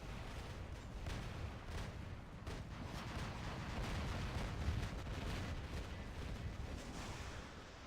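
In the War Robots video game, a prototype heavy machine gun fires in a dense, continuous stream of booming shots, loud and steady for the whole stretch with no talk.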